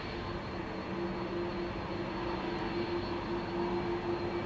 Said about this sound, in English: So many 747s coming in and going away from Schiphol.